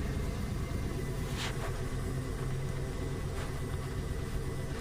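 A car engine idles steadily with a low, continuous rumble throughout, while a diagnostic scanner reads the mass air flow sensor; no voices are present.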